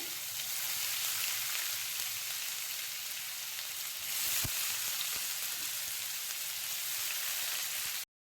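Egg curry spices, chopped green chillies and cashews fry in hot oil, giving a steady, dense sizzle that holds evenly throughout, close up and with no talking.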